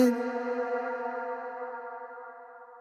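A sustained, harmonically rich tone swells out as a wet echo and reverb tail after the vocal cuts off, holding steady and then slowly fading over a few seconds with no voice present.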